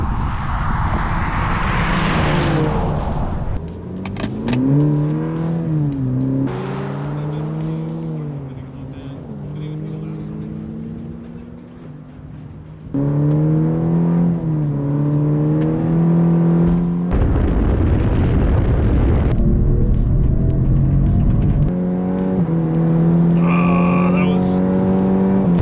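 A 2022 Genesis G70 3.3T and a 2022 Cadillac CT4-V Series race in a drag-and-roll run. Loud, close engines climb repeatedly through the gears in rising surges, with brief shift drops between pulls and a voice now and then.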